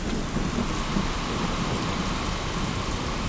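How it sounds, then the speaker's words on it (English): Steady thunderstorm with heavy rain pouring down and low rumbling thunder, a dense continuous wash of sound with no voices. "the storm looks like it's getting worse."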